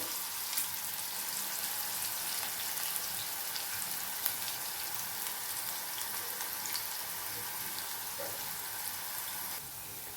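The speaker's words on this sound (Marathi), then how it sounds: "सोनेरी कलर येईस्तोवर आपल्याला हे परतायचे बटाटे छान तेलावर" Potatoes fry in oil in a pan until golden, giving a steady, even crackling hiss that runs for the whole stretch at moderate volume with no speech.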